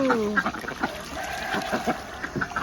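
Ducks at a small backyard pool on a Texas ranch give short, repeated quacks over a constant wash of running water, with no talking.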